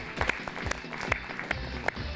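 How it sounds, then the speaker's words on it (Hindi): A studio audience at a reality show grand finale claps to welcome the four finalists, a brief burst of scattered, fairly close applause. "तो ये हमारे 4 फाइनलिस्ट, जोरदार तालियों के साथ एक बार इनका स्वागत करेंगे आप।"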